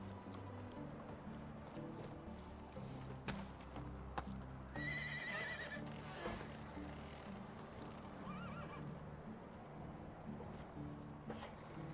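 A horse in the game Medieval Dynasty gives a few bright whinnies over steady hoofbeats, close and clear, with the clopping running the whole time and no talk.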